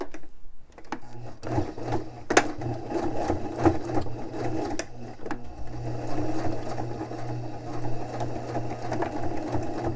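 A sewing machine stitches a denim patch over a hole in a pair of jeans, its motor humming steadily and close up while the needle chatters through the thick fabric.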